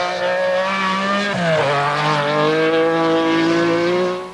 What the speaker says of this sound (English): Harold Demuth was coping with one of the most powerful Audi Quattros ever built, the last of the short wheelbase 450 horsepower models